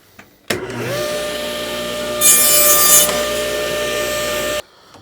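A power saw spins up and cuts a scrap of quarter-inch hardboard, giving a loud steady whine that rises into a harsher, brighter grinding for about a second mid-cut before stopping abruptly.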